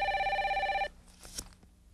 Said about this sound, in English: That's my holster phone.